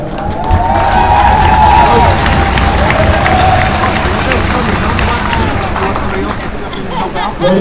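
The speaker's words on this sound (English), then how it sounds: "Let's hear a round of applause and some stick claps for Jack" A crowd at a hockey game in a rink cheers and applauds for the 69-year-old player of the game, with sticks clapping amid loud, sustained crowd noise and chatter.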